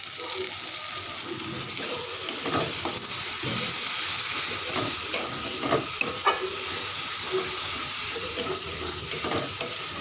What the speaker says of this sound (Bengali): এই যে মশলাটা কষছে, একটু তেল দেব